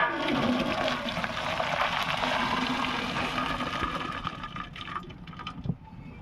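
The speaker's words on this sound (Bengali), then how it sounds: "আমি এটা নামিয়ে জলটা ঝাড়িয়ে নেব" Hot water gushes and pours off boiled egg chow mein noodles as they are drained, a loud, continuous rush that gradually thins to a trickle near the end.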